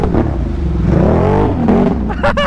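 A four-wheeler ridden on a mud tire setup revs loudly and close by, its engine pitch rising and falling through a couple of throttle swells. A voice comes in briefly near the end.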